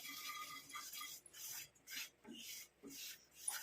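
Black cumin and amla powder being stirred as it roasts in a pan on low flame, with a spoon scraping in short, repeated strokes separated by brief gaps, close and quiet.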